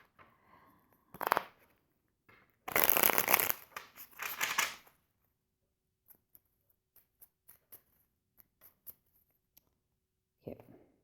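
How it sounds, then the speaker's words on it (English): Bursts of tarot cards being riffled and shuffled close by, followed by scattered soft taps and clicks in near silence. "Having a tough time shuffling again today."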